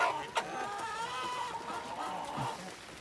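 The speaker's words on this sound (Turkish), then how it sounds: "Tavuklar güzel Turgay Usta." Slaughter chickens, including Wyandottes, cluck in a low murmur nearby, with a few sharper calls over a steady farmyard background.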